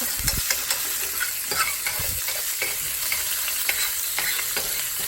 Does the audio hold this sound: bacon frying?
yes